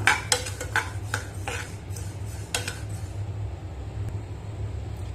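White sesame seeds dry-roast in a pan, with a series of sharp metallic scrapes and clinks from stirring at the start, then a quieter low rumble as the stirring eases off.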